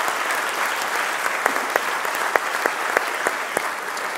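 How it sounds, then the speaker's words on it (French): Audience at a forum applauding a speaker, a full, steady crowd of clapping with several sharp, close individual claps popping out at irregular intervals and no voices heard. "Alors je vous propose pour l'applaudir"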